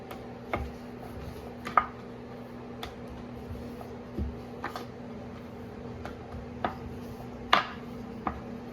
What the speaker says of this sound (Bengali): আমি একটু তেলে করে এবার লুচি বেলে নিচ্ছি।